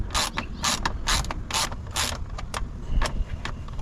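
Socket ratchet clicking in repeated bursts while backing out screws on the belt cover of a 2022 Can-Am X3 XRS, close and fairly loud, with no talking.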